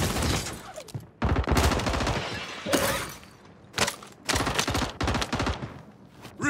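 Gunfire in the video game Warzone: bursts of rapid, loud shots fire in several dense volleys with short pauses between them, close and sharp.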